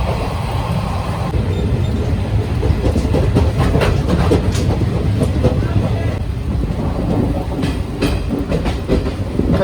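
The Gurumukhi Superfast Express passenger train from Nangal Dam to Kolkata rumbles along the rails with steady clickety-clack wheel beats, loud and close throughout.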